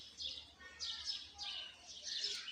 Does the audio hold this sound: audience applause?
no